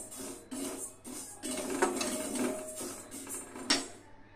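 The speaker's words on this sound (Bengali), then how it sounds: "দেখুন এভাবে নেড়ে ছেড়ে সাবুটাকে টেলে নিতে হবে।" Sago pearls dry-roasting in a pan, stirred in repeated scraping bursts with a light gritty rattle and metallic clinks, close and moderately quiet, no talk.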